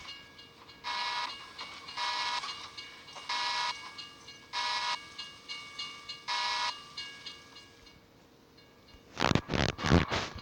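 A train rolls through a level crossing in Euro Truck Simulator, its carriages rumbling past in a regular rhythm of clacks, quiet and steady, then a few louder bursts near the end.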